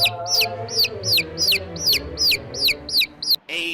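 Young chicks, including a red-and-white one, peep in a steady series of about nine sharp, high, downward-sliding calls over a low background rumble.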